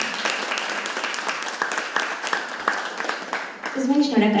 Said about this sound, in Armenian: եկեք ծափահարենք նրան։